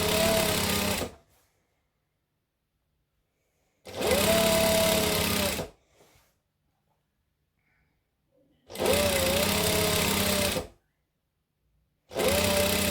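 Sewing machine stitching fabric for a Christmas tree skirt, fitted with a quarter-inch foot, in three loud close runs of rapid mechanical whirring separated by silent pauses, the last cut off at the end.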